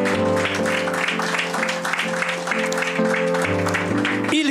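A church congregation claps steadily throughout to acclaim Jesus, the applause running under sustained organ or keyboard music and loud cheering.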